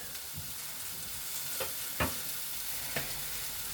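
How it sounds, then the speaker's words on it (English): A flour roux being stirred in a pan for cauliflower cheese, with a soft steady sizzle underneath and a few sharp clinks of the utensil against the pan, fairly quiet with no voices. "I'll be adding flour, and that will be your base roux mix"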